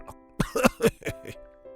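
A voice imitates a short burst of four or five rapid coughs, close and clear against quiet background.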